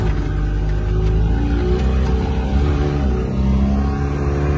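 A vehicle engine revs hard and holds a strained, steady roar while its wheels slip and spin on a muddy, greasy slope in the rain, loud and close, with no talk.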